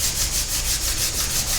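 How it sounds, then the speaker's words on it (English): Metal lathe cutting an undercut into a threaded section of a workpiece, a steady near rubbing, scraping hiss with a faint regular pulsing as the part turns, no voices. "The last job on the lathe is to undercut the threaded area."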